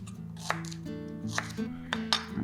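Knife roughly chopping lemongrass on a board, a handful of sharp, irregular chops over a low steady hum, close and moderately loud.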